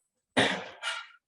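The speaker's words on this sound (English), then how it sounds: "I've been coughing like this all day" A single person gives one close, rough cough in two quick bursts, then silence.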